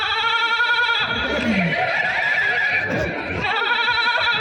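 Someone imitates a goat with a loud, wavering nasal bleat that carries on for several seconds, mixed with other voices and crowd noise at a live comedy show.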